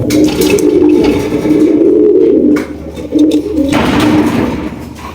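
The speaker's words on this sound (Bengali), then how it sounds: "এখানে রয়েছে একজোড়া গোল্লা কবুতর" A pair of Gola pigeons coo in a low, continuous murmur that runs steadily throughout, close by, with some brief rustling partway through.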